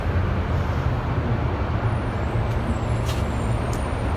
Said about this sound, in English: Hey look, there's the school bus.